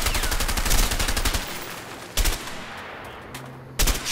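Shotgun fire in the video game A Way Out: a rapid, loud run of overlapping blasts, then two separate heavy booms after brief pauses, with no talking over them.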